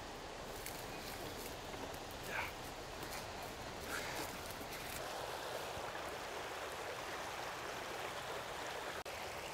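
A small tributary stream flowing into Coburg Creek at Ball's Mill Conservation Area, a steady broadband rush of water that stays even throughout, fairly close and unbroken, with no talking.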